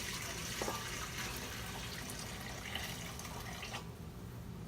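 Seasoned chicken broth is poured into a pan for soul food chicken dressing, a faint continuous liquid trickle and splash lasting a few seconds with soft kitchen background noise.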